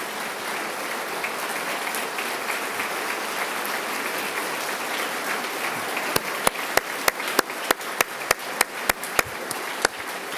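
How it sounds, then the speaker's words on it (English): A large audience applauds at a state address, a loud, steady wash of many hands that continues throughout, with sharp, evenly spaced louder claps standing out over the final few seconds. "Let's give them a round of applause."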